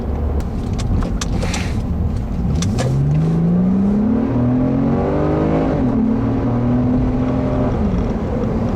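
A 2008 Acura TL, front-wheel drive, accelerating hard on a test drive, its engine note climbing steadily in pitch through the gear with a loud, smooth rising drone and no talk over it.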